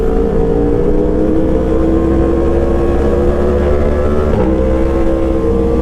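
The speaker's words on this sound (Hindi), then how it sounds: "तीनों की बाइक्स क्रॉस प्लेन क्रैंक हैं और बड़ी आइकॉनिक सी आवाज़ है" Several motorcycles with cross-plane crank engines, ridden in wet mountain weather around Murree, run together in a loud, continuous droning rumble close by, with slight swells in revs and no talk.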